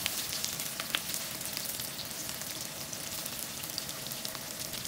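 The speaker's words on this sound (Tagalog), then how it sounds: "Inuna ko nang iginisa itong luya. At sinunod ko na rin itong sibuyas. Matapos ng sibuyas, ito namang bawang." Ginger, onion and garlic sautéing in a pan, a soft, continuous sizzle and crackle heard alone at low volume.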